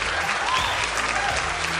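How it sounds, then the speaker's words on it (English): An audience at a Republican rally in New York claps loudly and continuously, forming a brief dense wash of applause with cheering mixed in. "They clap and they say woo."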